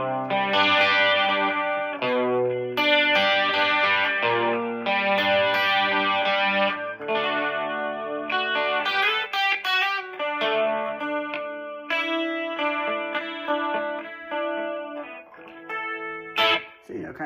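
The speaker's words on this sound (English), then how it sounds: "then you just kind of turn on the chorus and mess around with that" Electric guitar with a chorus effect played through a Spark Mini amp, a clean shimmering tone with strummed chords and picked notes, close and alone without talk.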